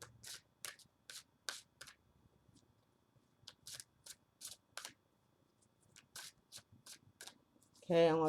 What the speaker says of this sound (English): Just going to shuffle a bit.